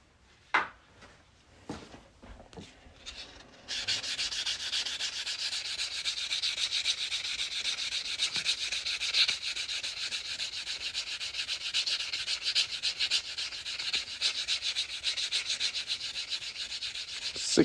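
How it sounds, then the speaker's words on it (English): Sanding the cut edge of a Kentucky quarter coin ring, beginning with a few sharp handling knocks before a steady, close rasping scrub that carries on evenly to the end. "I like to sand this cut edge right here,"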